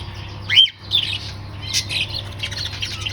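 A canary with a splinted broken leg gives sharp chirps and a brief squawk, close and moderately loud over a low steady background hum, with a pause near the start and softer calls continuing throughout.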